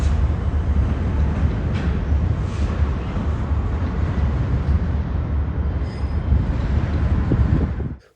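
A GP33 Eco locomotive makes switching moves at an intermodal rail terminal, producing a continuous loud rumbling drone with rolling rail noise and light wind buffeting, close by and unbroken until a sudden cutoff at the end.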